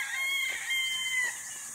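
Young Kelso blend roosters crow and cluck nearby in a brief, steady burst of calls with no talking.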